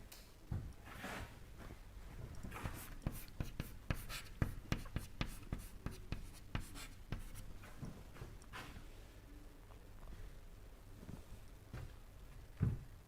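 A pen or chalk writes an equation by hand during a fluid mechanics lecture, giving a quiet run of quick, close scratching strokes with brief pauses and no talk.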